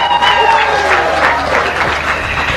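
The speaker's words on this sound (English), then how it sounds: "Let's give a round of applause." Audience at a live charity celebration event applauding, a dense crowd clapping with some cheering and voices mixed in, fairly loud and close.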